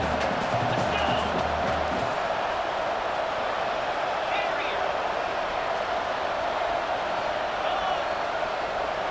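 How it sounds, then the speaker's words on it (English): A stadium crowd roars late in the fourth quarter of a Tulane vs USC college football game, a dense, continuous wall of noise with a commentator talking over it. "with this place rocking, the crowd forces a false start"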